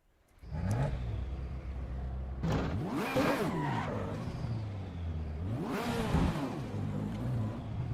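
A race car in Assetto Corsa EVO revs hard, its engine note rising and falling in sweeping pitch changes with skidding tire noise, loud and continuous throughout.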